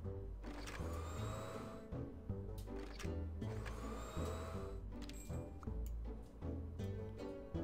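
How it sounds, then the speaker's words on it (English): Steady mechanical whirring hum from a vacuum cleaner in the hotel-management video game Jane's Hotel, running continuously with periodic clicks and short chimes layered over the drone, no talking. "all Cassie needs to do is vacuum these last three rooms"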